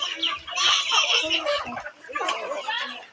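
Chickens belonging to a relative cluck and chatter in a busy, overlapping flock, with voices talking over the birds throughout.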